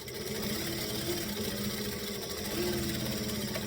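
A sewing machine stitches steadily along the top edge of fabric, giving a close, continuous mechanical whir at an even pace throughout, with no pauses and no voices.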